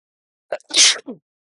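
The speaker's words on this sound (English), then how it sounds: "Don't think I've ever sneezed on a video before." A single sharp sneeze, a quick breathy intake then an explosive burst, alone against silence.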